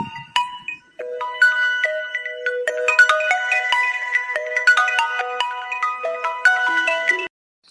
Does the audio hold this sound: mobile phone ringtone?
yes